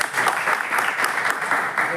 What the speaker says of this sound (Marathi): एकदा आपण जोरदार टाळ्या वाजवल्या